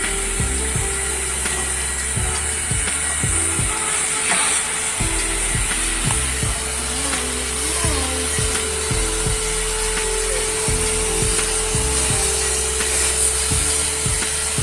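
A banner tape seaming machine runs steadily nearby, a constant mechanical hum with repeated rhythmic thumps and scraping pulses recurring every second or so throughout.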